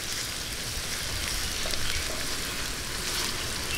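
Ingredients sautéing in a pan until light brown, ahead of onions for a sweet Filipino-style spaghetti sauce, with a close, constant hissing sizzle throughout and no voices.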